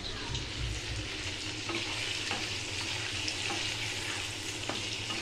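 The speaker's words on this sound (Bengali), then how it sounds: "পনিরটাকে একটু লালচে করে ভেজে নিতে হবে।" Paneer fries in oil and butter with a dense, steady sizzle up close, broken by light scrapes and taps as it is stirred in the pan.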